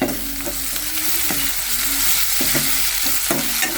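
Mustard seeds, cumin, garlic-ginger paste and onion fry in a pan for an eggplant dish, a loud constant sizzle with intermittent spatula scrapes and knocks close by.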